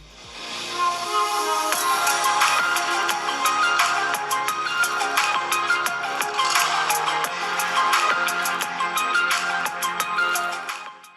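Music plays continuously through the stereo speakers of an iQOO 13 phone, with bright layered tones and a steady level from start to end.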